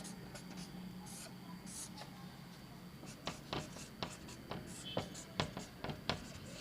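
A pen or chalk writing out a maths question on ratios by hand, with soft scratching and a run of sharp, quick taps and strokes growing busier toward the end, close and fairly faint.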